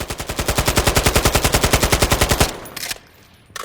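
A Saiga MK-107 without a muzzle attachment fires in Call of Duty Modern Warfare III: a rapid, even automatic burst of about two dozen close, loud shots, then a short echoing tail and quiet.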